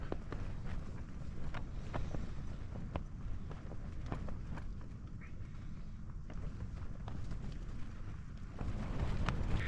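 Steady wind roaring and buffeting a Hilleberg Staika tent at a wild camp, with scattered flapping and rustling of tent fabric against a constant low rumble.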